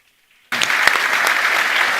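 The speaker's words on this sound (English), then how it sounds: "and they applaud me" After half a second of silence, an audience at a panel discussion at the flip 2025 literary festival breaks into loud, sustained applause that carries on evenly to the end.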